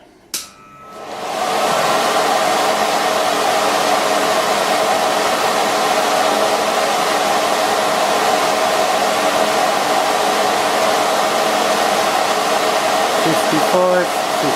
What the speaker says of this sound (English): In this test the blower is 4 feet away and the Venturi is not fitted.